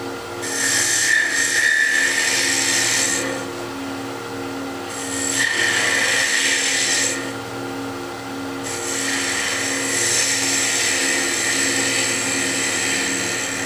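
A spindle gouge cuts the dome of a modern wooden chess piece on a spinning lathe, giving a steady, close, hissing scrape with a constant motor hum beneath and brief lighter pauses as the tool eases off.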